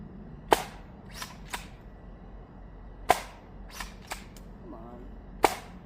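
A Battle Axe toy blaster fires triple elite shells loaded with half darts, giving three sharp, close pops, each followed by fainter thuds and clatter of darts landing, spaced a couple of seconds apart.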